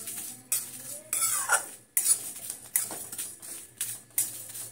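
Spices are stirred in a hot kadai, the ladle scraping and clinking against the metal in short repeated strokes with brief sizzling hisses between them.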